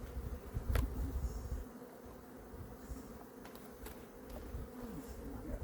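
Honey bees buzz continuously around an open hive during a mid-October colony inspection, a steady low drone with occasional sharp wingbeat passes close by and faint handling noises beneath.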